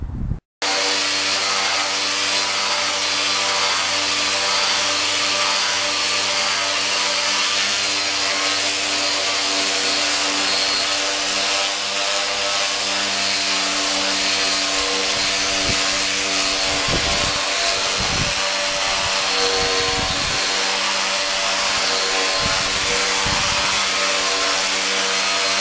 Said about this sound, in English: what I put is some 50 grit on one power sander, 60 on the rotary. I just want to see how this is going to cut.